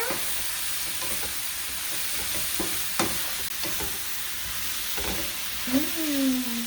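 Crab noodle soup base with fish sauce and paprika stirred in a pot for Vietnamese bun rieu, a steady low sizzle with scattered scraping taps of the spoon and a brief clatter near the end.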